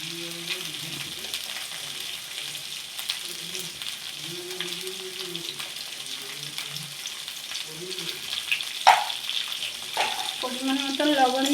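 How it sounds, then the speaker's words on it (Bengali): Okra frying in a pan with potato and onion as salt goes in, a steady bed of sizzle with soft stirring scrapes throughout, growing louder and busier near the end with brief clinks; faint voice-like tones sit low underneath. "পরিমাণ মতন লবণ দিয়ে কিছুক্ষণ ভাজার পরে তারপরে মশলা দেব"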